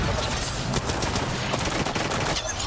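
Weapon fire crackles through a match of the video game Apex Legends, where Kraber sniper rifle shots ring out amid a busy, loud battle soundscape of repeated sharp reports.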